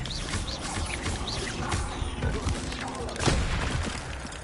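Incendio spell cast in the Hogwarts game: a dense, roaring burst of fiery magic with crackling and a louder whoosh near the end, over busy background sound.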